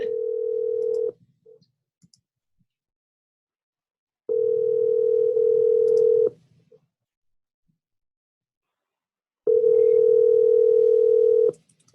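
A telephone dial tone on an outgoing call sounds in three steady, loud bursts of about two seconds each, separated by silent gaps, with no talking.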